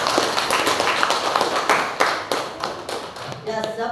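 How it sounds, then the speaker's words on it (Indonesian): A classroom of students applauds a classmate with steady, loud hand clapping that fades toward the end, while a voice speaks faintly underneath. "Kita beri aplaus buat Nora."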